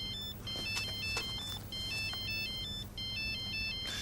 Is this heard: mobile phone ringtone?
yes